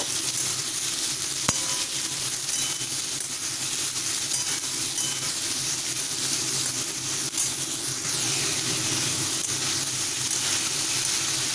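Potatoes and pumpkin fry in a pan with a loud, continuous sizzle and hiss. A faint stirring scrape and one sharp click sound early on, and no one speaks.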